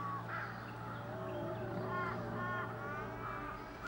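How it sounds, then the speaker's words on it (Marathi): Crows caw repeatedly in the distance, several harsh calls rising over a steady low background hum, fairly faint and without talk over them. "कावळे अजून गेलेले नाही."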